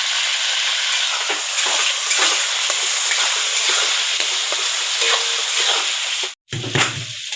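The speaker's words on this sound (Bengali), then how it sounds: "আলু ভাজা হয়ে গেল, এবার নামিয়ে নেব।" Potatoes frying in a pan: a continuous loud hiss and sizzle with faint scraping ticks, cutting out abruptly near the end before a quieter sizzle resumes.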